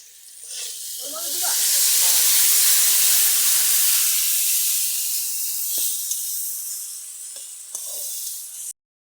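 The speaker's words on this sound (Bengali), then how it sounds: "এই যে আলু পটল রান্না হচ্ছে তার মধ্যে আবার টমেটো দিলাম" Potato, pointed gourd and tomato curry cooking in a pan, loud close hissing steam that swells after a second and holds for several seconds before easing, with a few light clicks near the end.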